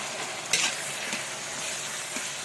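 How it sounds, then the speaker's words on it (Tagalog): Liver frying in a pan for Filipino igado gives a steady, moderate sizzle, with a sharp splatter as pieces drop in and a few soft stirring taps. "Pagkatapos, ilagay muna natin yung atay."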